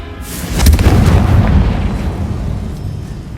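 A Confringo spell explodes in the video game Hogwarts Legacy, a single loud, close boom with a deep rumbling tail that fades over a few seconds.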